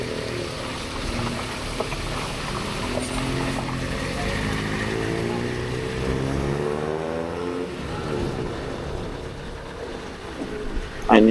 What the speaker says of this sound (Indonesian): di sini ada juga alat transportasi becak mesin